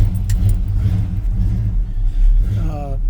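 A truck with a 350 V8 and a four-speed cranks and starts in the rain, a low rumbling engine turning over and catching close by, with keys jangling and someone speaking over it.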